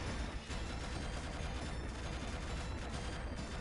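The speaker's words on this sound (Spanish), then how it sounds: "Cuidado porque aquí ya dispara todo." Arcade shoot-'em-up Aero Fighters gameplay: a constant, dense barrage of rapid gunfire and explosions fills the whole stretch, loud and unbroken.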